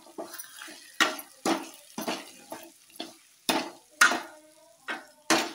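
Stuffed eggplant curry mixture is stirred in a pan with a spoon, producing a steady series of about a dozen distinct scraping, squelching strokes close by, roughly two per second, with no talking.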